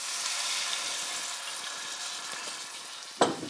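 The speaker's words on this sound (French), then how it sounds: "Et vous entendez, ça grésille, c'est ces petits sucres comme ça grattés," A pan of free-range chicken sizzles steadily while being deglazed with white wine and the browned bits are scraped from the bottom, ending in a sharper burst of hiss.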